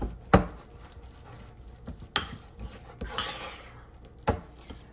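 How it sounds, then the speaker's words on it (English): Leftover bacon crumbles tipped out of a nearly empty bag into a kitchen bowl, giving a few sharp clattering hits and scattered light patter, with no voices. "there's not much left in the bag, so I'm just gonna dump it"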